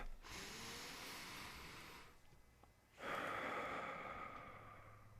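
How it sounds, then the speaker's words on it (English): A deep cleansing breath, taken in and then let out, sounds close and clear: a long airy inhale lasting about two seconds, a brief quiet pause, then a strong rushing exhale that slowly fades, with no talk over it. "You just breathe in deeply, you hold it for a couple of seconds, and you exhale."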